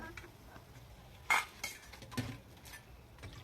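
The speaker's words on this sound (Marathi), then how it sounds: "आता आपण हे वडे एका वाट्यामध्ये काढून घेऊया" Fried vadas for dahi vada are lifted into a bowl, with a few sharp metal utensil clinks and scrapes spaced across a quiet background, no talking.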